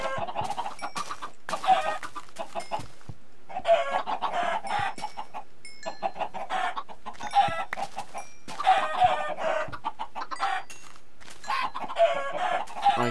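Chickens in the video game Minecraft cluck repeatedly in short irregular bursts, fairly close and clear, separated by brief silences across the whole stretch.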